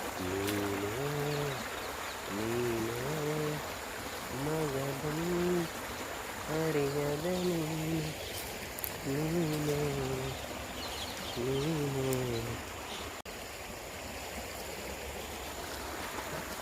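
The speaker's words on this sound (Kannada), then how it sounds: "ನೀರು ಜುಳ ಜುಳ ಜುಳ ಜುಳ ಹರಿತಾ ಇದೆ" A natural stream flows and gurgles steadily along a walking trail, a continuous close wash of water with a voice speaking over it at intervals.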